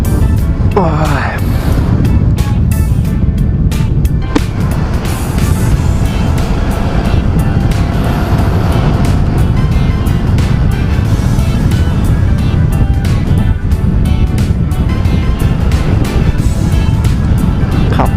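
A Honda Wave motorbike rides along a coastal road in Prachuap, Thailand, with a steady, loud engine drone mixed with strong wind rush. The sound continues without a break, and a voice is faintly heard over it.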